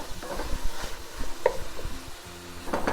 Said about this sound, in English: We're gonna cook our meat until it is all brown and no more pink is visible.